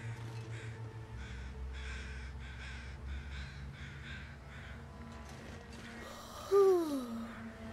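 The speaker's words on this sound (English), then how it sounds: "These flyover crows?" Several crows caw in a repeated rhythmic series in The Long Dark, set in an outdoor wilderness with steady low wind, followed by one louder, nearer harsh call near the end.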